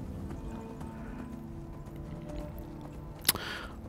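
Horse hooves clip-clop at a steady walking rhythm in Skyrim, moderately close over a low ambient game bed, ending with a brief sharp hit near the end.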